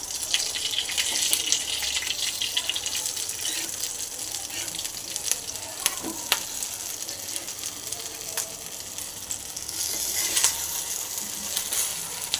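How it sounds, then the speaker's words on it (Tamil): Brinjal slices with curry leaves frying in a pan, giving a steady close sizzle with occasional stirring clatter throughout, no talk. "நல்லா ஃப்ரை ஆகிட்டுருக்கு அப்படியே எடுத்துடலாம்"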